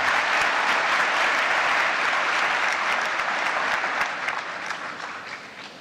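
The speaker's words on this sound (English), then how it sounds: "Ladies and gentlemen, a round of applause for the Prime Minister of Canada." An audience at the APEC CEO Summit applauds the Prime Minister of Canada, with dense, loud, sustained clapping that gradually fades toward the end.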